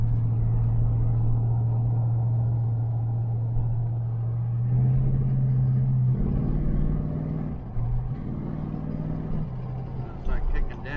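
A 1978 El Camino SS V8 with a four-barrel carburetor accelerating from inside the cab, a low steady engine drone that rises and steps up in pitch as the throttle opens, with a person talking over it.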